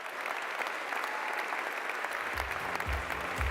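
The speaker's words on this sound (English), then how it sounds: "Give them a huge round of applause." An audience at a sustainable cooking competition grand final applauds the winners with steady, even clapping that fills the room, and a low voice begins speaking beneath it toward the end.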